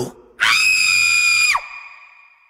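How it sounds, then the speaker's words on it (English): A single loud, sustained scream lasting about a second rings out sharply and then cuts off, from a Beetlejuice musical staged in the Rec Room video game. "The sound of a scream."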